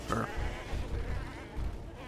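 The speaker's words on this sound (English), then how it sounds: "I can't even just run away from these frickin' goats." Goats bleat in the Path of Exile video game, a few nasal wavering cries close together over a low rumbling game backdrop, fairly loud and with no talk on top.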